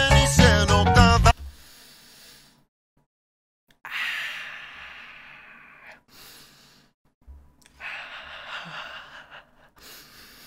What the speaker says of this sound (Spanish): exhala, inhala, exhala